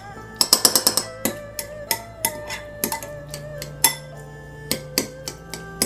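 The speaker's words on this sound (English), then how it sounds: "You can also kind of smash it down with your spoon as you're going." Metal spoon mashing spicy tuna mix in a bowl, a quick flurry of sharp clinks followed by irregular scraping taps and clatters, close and fairly loud with no talking.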